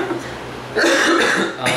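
A burst of coughing breaks out abruptly, loud and close, with a short pause and then another rough cough right after.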